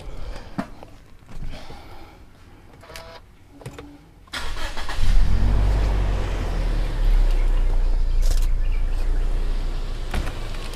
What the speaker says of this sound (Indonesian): Sebentar, saya nyalakan mesinnya biar teman-teman.